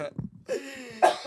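A couple of short, rough coughs close to the listener, one after another, with a brief throat sound between them.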